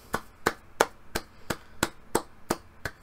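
Eight sharp hand claps in a steady, evenly spaced rhythm, close and fairly loud, with no voices over them.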